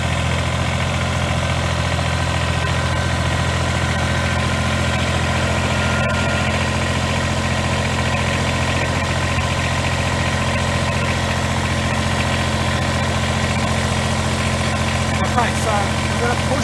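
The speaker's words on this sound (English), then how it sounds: "So I'll just bring the tractor forward and you can see what we're talking about." A compact Kubota BX tractor with a quick-attach front hitch idles steadily as it creeps forward, its engine a continuous low diesel drone with a mechanical rattle throughout, loud and close.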